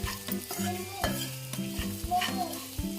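Salt being stirred into food in a frying pan, a spoon scraping and knocking rhythmically against the pan over a steady sizzle, close and clear with music playing underneath.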